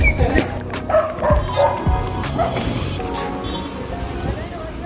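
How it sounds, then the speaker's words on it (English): A dog barks and yips nearby outdoors in the small Italian town of Spello, a few sharp barks and whimpering sounds against street noise with a passing car, some voices in the background. "Beautiful dog."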